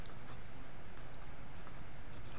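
A pen or pencil scratches steadily across paper while drawing, a close, continuous dry scraping with light rhythmic strokes throughout.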